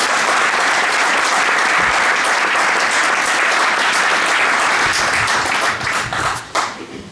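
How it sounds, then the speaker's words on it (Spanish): Loud, full audience applause for David Serrano before his talk on steppe habitats and threatened species, sustained for several seconds and then thinning into a few scattered final claps. "un fuerte aplauso para David y muchísimas gracias"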